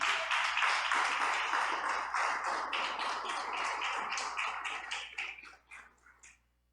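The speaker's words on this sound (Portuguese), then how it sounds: "Dá uma salva de palmas para Jesus." A church congregation claps together in dense, rapid applause that holds steady for several seconds, then thins out and fades.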